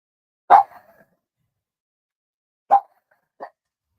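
A pet dog gives a few sharp, separate barks indoors, one loud bark, then after a pause two more, the last quieter, with silence between them.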